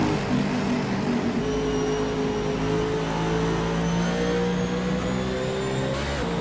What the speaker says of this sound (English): you can really hear him go through the gears, and you can really hear him